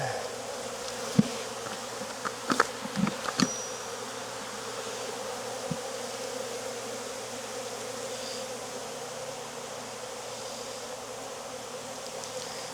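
Honey bees hum steadily around an open hive during a Demaree split, a dense continuous drone with a few close clicks and knocks from hive tools early on.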